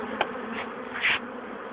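Honey bees buzz as pieces of a bird box holding the colony are shaken out in front of it, a steady swarming drone with a few louder swells nearby.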